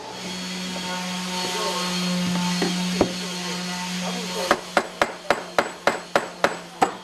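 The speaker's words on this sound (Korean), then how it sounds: "나무 망치로 두들기며 한 번 더 손을 본다" Wooden mallet striking a wooden square bathtub during assembly in a tub workshop: a steady run of about eight sharp, evenly spaced knocks, loud and close, after a stretch of low hum and scattered workshop noise with one earlier knock.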